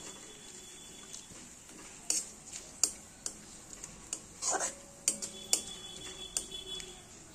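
Bay leaves and whole garam masala get stirred in a pan, giving quiet, irregular clicks and light taps of a utensil against the pan, scattered over a soft background hiss.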